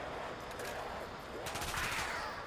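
Bursts of gunfire from a gun in a Call of Duty zombies map, steady and fairly dense across the moment, with no talk over it.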